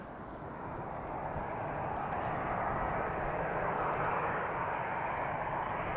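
A jet airliner's engines spool up at Amsterdam Schiphol Airport near runway 36L, a broad, steady roar that swells slightly and holds loud and continuous, with no voices.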